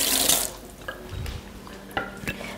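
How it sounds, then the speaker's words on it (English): A tap runs briefly as a spoon is rinsed under the water in a kitchen, followed by a few light clinks of metal, close. "just want to rinse my spoon"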